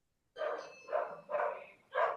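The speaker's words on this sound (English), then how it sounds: "And if someone's dog wants to join in." A dog barks four times at a steady, moderate pace, fairly close and loud, with short pauses between barks and no other sounds.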